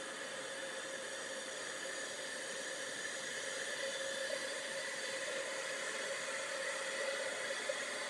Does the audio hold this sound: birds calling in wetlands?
no